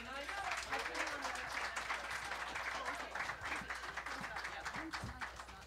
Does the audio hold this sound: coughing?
no